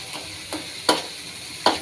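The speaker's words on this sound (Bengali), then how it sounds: "চেড়ে দিচ্ছি, নাড়াচাড়া করছি, কারণ তা না হলে গোটা গোটা হয়ে যাবে।" A spoon scrapes and stirs beef brain with green chillies in a frying pan: four or five short, separate scraping strokes at an uneven pace, close and moderately quiet, with a faint sizzle underneath.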